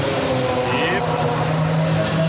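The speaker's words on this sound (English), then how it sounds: "That was Formula 2 going out on their first run of practice, and we were nowhere near the track" Formula 2 race cars head out on their first practice run, heard from far off rather than trackside: a continuous loud engine drone with a rising whine partway through, and voices underneath.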